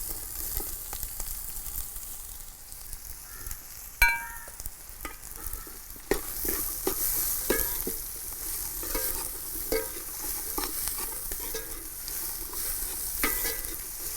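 Four finely chopped large onions fry in a pan with ginger and garlic for prawn roast, a continuous close sizzle with repeated scraping stirs and a sharp clank near the four-second mark.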